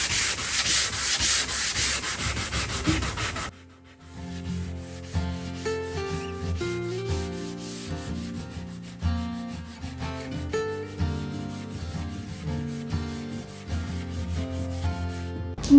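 An Art Deco burlwood veneer cabinet is sanded by hand: a loud, steady rasping scrub for a few seconds that stops abruptly, followed by music.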